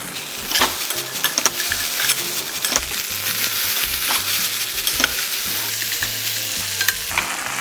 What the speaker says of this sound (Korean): 다음으로는 초벌해 놓은 고기를 넣어서 볶아주겠습니다